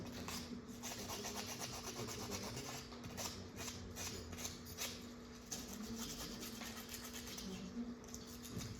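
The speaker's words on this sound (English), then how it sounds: "I'm going to show you using the metal sandpaper" A hand tool blade being rubbed with very fine black metal sandpaper, heard as faint, steady back-and-forth scraping strokes close by, with a low constant hum underneath.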